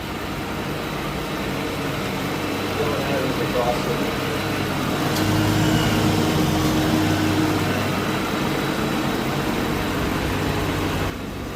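A 2004 Mystichrome Mustang Cobra engine runs steadily at idle, a constant low rumble and hum that continues throughout, close and fairly loud.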